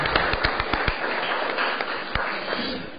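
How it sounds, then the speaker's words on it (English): A small round of applause in a city Board of Aldermen council chamber: a burst of scattered, sharp claps at the start that thins out into a few isolated claps over a muffled room background. "Let's give her a round of applause."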